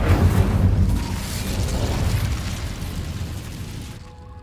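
The Incendio fire spell is cast in Hogwarts Legacy, heard as a loud, fiery whooshing boom that bursts at once and then slowly dies away over several seconds.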